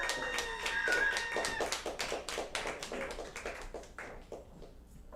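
A small audience claps for a performer at a live music show, a fairly close burst of quick claps that starts over a faint voice and fades off over about five seconds.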